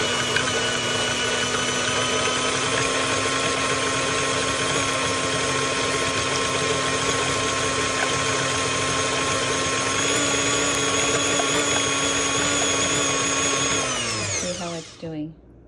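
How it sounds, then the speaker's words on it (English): A stand mixer whips three eggs to a froth with a steady, loud motor whine and a constant pitch. It runs without a break for about fifteen seconds, then spins down and stops. "To use my stand mixer, you can use a hand mixer if you like, but you're going to beat the 3 eggs until it comes up to a froth"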